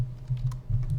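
Keys clack on a computer keyboard in a short burst of quick, close, moderately quiet taps with no voice over them.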